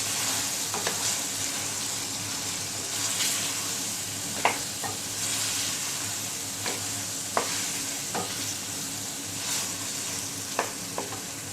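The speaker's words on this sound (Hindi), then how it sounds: "आलू को हमने 1 मिनट के लिए भून लिया।" Potatoes fry in a pan for aloo shimla mirch, a dense continuous sizzle with a spoon stirring through it, leaving sharp intermittent clicks and scrapes against the metal; steady and close, with no talking.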